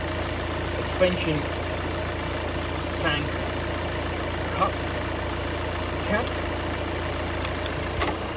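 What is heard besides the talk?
car engine running at idle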